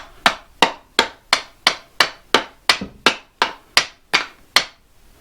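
Metal hammer blows strike a reloading press during disassembly to break parts off, thirteen sharp, evenly spaced whacks ringing out loud and close with no talk.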